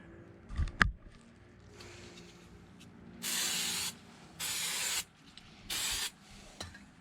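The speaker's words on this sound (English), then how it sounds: "The brake clean takes any chemicals off of the rotor that would eat away at your pads. So try to use brake clean." Brake cleaner sprays onto a new brake rotor on a 2010 Dodge Caravan in three loud, close hissing bursts of about a second each, after a few soft handling knocks and clicks.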